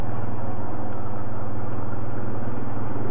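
Grizzly ATV engine turning around on a trail, a loud, close, steady motor drone with a buzzing low throb and no pauses.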